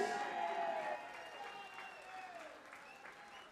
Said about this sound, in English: keep the applause going for Mike Gillet!